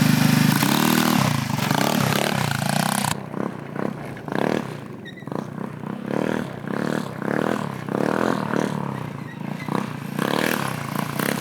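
A GY6 150cc scooter engine roars close by during wheelie practice, revving hard at first and then dropping into a rough, uneven burble with repeated throttle blips, with no voices over it.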